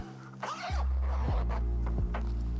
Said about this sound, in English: We'll zip it up.